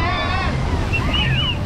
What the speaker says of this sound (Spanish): Es que está bien embravecido el mar